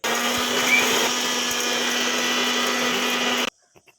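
Electric mixer grinder whirring steadily as it grinds roasted coconut with chilli, coriander and turmeric powders and curry leaves for a traditional taro-leaf curry, loud and continuous before cutting off abruptly near the end.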